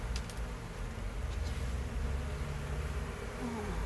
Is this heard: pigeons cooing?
no